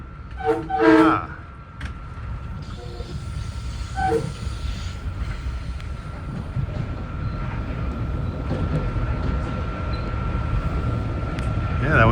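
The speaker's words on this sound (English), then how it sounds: "That was train 8930 from Atlantic Terminal to Jamaica with that same M9 set that we usually see around here." A Long Island Rail Road M9 train passes, opening with a loud horn blast and a second shorter horn, then a steady rumble of wheels and cars rolling by that builds toward the end.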